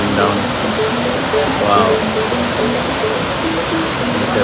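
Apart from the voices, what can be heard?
famous waterfall in Ubud, Bali, pouring down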